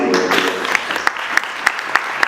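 A crowd applauds steadily throughout, a dense patter of many hands with a few sharper nearby claps standing out.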